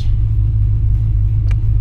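A 2016-2024 Camaro SS V8 idles and rumbles heavily in drive with line lock and brakes fully engaged, a loud, steady low growl up close.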